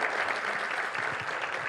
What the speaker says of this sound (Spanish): Démosle un fuerte aplauso a los que nos visitan